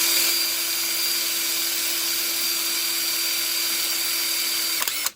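A power drill drills a hole in metal on a Honda CL350/CB350 motorcycle, whining steadily at high speed, loud and close, running continuously before cutting off abruptly at the end.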